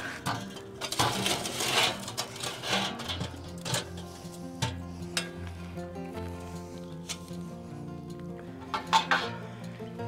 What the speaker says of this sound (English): Kinda take our charcoal and stir it around a little bit.